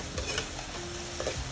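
Chicken pieces for Kung Pao chicken cook in a pan with a faint, steady background sizzle and a few soft stirring scrapes, heard close with no voices.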